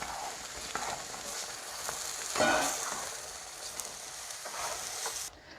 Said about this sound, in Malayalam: ഒന്ന് ഇളക്കി കൊടുക്കുക കേട്ടോ